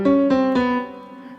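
A short inter-ultrapolation melody in which each principal note gains an added tone a semitone above. Three sustained tones are struck in quick succession and then ring out and slowly fade, close and alone.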